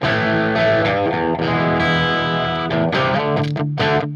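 An instrument plays loud, sustained, gritty chords through the preamp of a Roland Space Echo tape delay with the echo volume turned fully down. The chords continue steadily, with short breaks near the end, and no one speaks.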